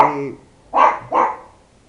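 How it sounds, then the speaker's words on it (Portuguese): A dog barks three times nearby, loud and clear, the last two coming in quick succession. "minha cachorra latindo"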